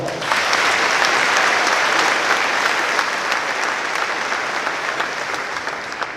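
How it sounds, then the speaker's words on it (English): A commencement crowd gives students at a class of 2026 ceremony a steady round of applause, many hands clapping loudly and evenly throughout with no talking over it. "Please give all of these students another worthy round of applause."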